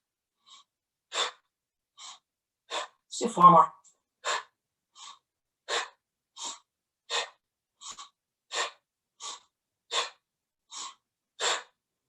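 Sharp breaths pushed out through the mouth during a Kundalini-style yoga breathing exercise, about fifteen short exhales in an even pulse, close and clear, with one brief spoken instruction partway through.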